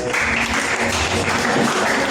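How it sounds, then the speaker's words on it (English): Applause at a faculty get-together for Maritime Week at a technology institute: a dense, continuous wash of clapping from a crowd, even in loudness throughout. "Please give her a round of applause."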